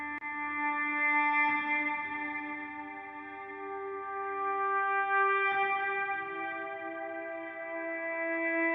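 A sustained synth or guitar tone washed in reverb, its notes ringing out and decaying into a lush tail, with a couple of soft swells along the way, in ambient music.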